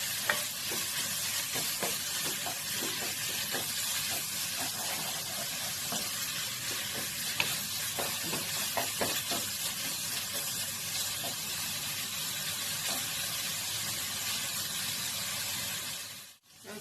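Minced pork stir-fried in a pan over medium heat, a busy steady sizzle with repeated scraping stirs throughout, close and unbroken, with no voices.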